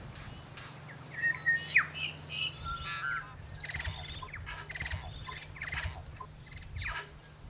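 Tui and bellbirds in New Zealand bush call from the trees with clear whistles, sharp squawks and chirps scattered over several seconds, set against a low steady hum and light rustling.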